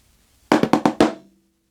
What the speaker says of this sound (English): you're going to play a paradiddle.